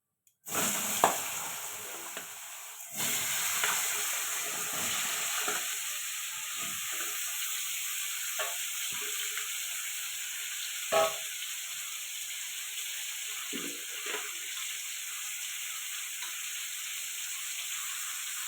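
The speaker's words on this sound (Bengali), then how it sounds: "এবার আলুগুলো ভেজে নেবো একটু" Potatoes fry steadily in hot oil for a Bengali fish, potato and eggplant curry, a continuous sizzle and hiss with occasional stirring scrapes and clicks, close by and with no talking.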